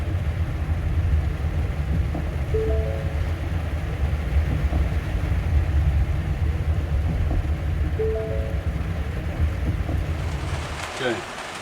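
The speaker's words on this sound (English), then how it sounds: "right now it's raining pretty bad" Heavy rain pours outside a 2020 Ford Transit, a dense, constant wash of noise heard from inside the vehicle throughout, with faint faraway tones and a brief shift near the end.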